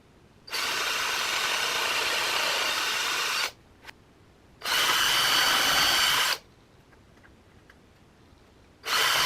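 Small drill boring 1.5mm pilot holes in wooden boat planking for bronze nails, three bursts of steady high-pitched whine, each a few seconds long, separated by quiet gaps, close and alone.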